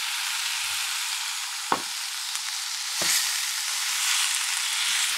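Courgettes roasting in a frying pan for a minced-meat courgette gratin give a steady, close sizzle, broken by a couple of sharp knocks from stirring.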